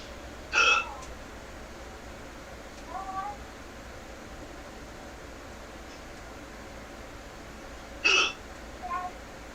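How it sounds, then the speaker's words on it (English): Forceful hiccups from a person, two main sharp bursts about seven seconds apart, each followed by a softer aftershock, over steady low background hiss. "Jeez, just listening to your hiccups makes my chest hurt."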